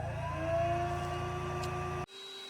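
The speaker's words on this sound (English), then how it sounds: "So here I have my blower, which I've used for some of my previous projects." Homemade blower built from an air pump and a stainless steel pipe, running with a steady humming whir for about two seconds before abruptly cutting off into near silence.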